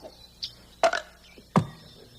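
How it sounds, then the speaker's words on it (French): A child burps after drinking cola, two short guttural belches following a faint sip sound, close and fairly loud in a quiet room. "C'est pas poli faire des rots"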